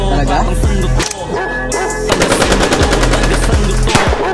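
Machine-gun fire in a Filipino action drama scene, loud rapid bursts of shots with short gaps, dense and close, the rattling volleys continuing to the end.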